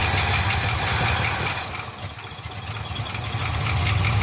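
A 1975 Ford F500 rollback truck engine, revived after seventeen years sitting in a field, idles loud and close with a steady rough rumble and a slight dip midway, no talk.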